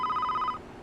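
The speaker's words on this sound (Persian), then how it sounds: "قبل از اینکه من به این تلفن جواب بدم" On a theatre stage, a telephone bell trills in rapid bursts for about half a second and then cuts off, clear and fairly loud.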